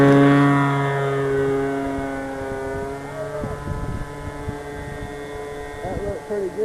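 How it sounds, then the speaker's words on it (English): A Phoenix Edge 540 model airplane takes off and lands outdoors. Its engine drones loudly at first, then falls away and wavers in pitch as it moves around at a distance. "Doing one more quick takeoff and landing here."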